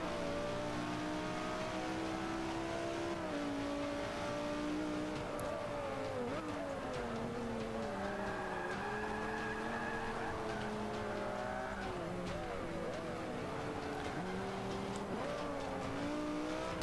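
A race car lapping the Nürburgring Nordschleife in Forza Motorsport 5, its engine revving up and down through gear shifts with faint tire squeal, steady and moderately loud with no talking.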